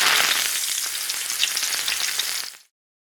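Bacon sizzling in a pan, a dense bright crackle heard close and steady for a few seconds before cutting off abruptly, no voices.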